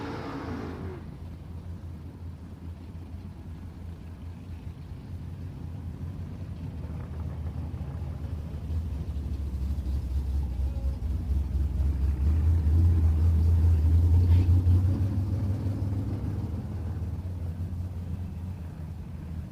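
A red Holden Commodore and a Sonic Blue Ford Falcon idle at the start line of a drag-racing qualifying session, their engines a deep continuous rumble that swells louder toward the middle before easing back.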